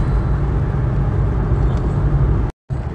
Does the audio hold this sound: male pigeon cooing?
no